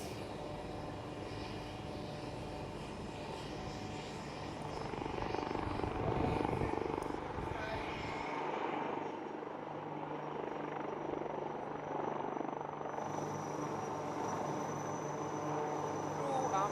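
Sarang helicopters and Surya Kiran jets flying a display at the Aero India air show, a steady loud roar of rotors and jet engines with a rising surge in the middle, outdoors with faint crowd noise.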